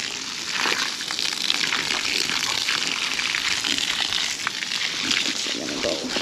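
Water gushes and splashes steadily from a hose or spigot into a muddy pig wallow during a heat wave, a continuous close hiss with sloshing, no talking.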